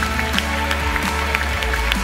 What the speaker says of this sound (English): Once again, big applause to the winner of the Sanpellegrino Young Chef